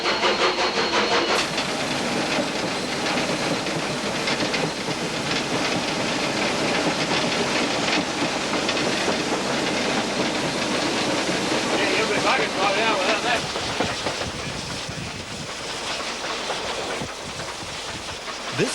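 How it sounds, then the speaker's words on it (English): Steam locomotive climbing the line north of Dunedin past Port Chalmers, heard close at the firebox door: a loud, continuous roar of exhaust beat and rail clatter that holds steady throughout, easing slightly near the end. "the camera catches the beat of the engine through the firebox door"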